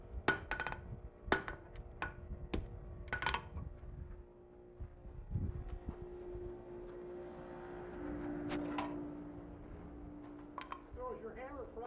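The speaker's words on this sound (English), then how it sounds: "it's a ball face hammer. Basically a rounding hammer." A blacksmith's ball face rounding hammer strikes hot metal on an anvil at a smithing conference, a few sharp ringing blows early on followed by quieter clinks, with talk and room noise around.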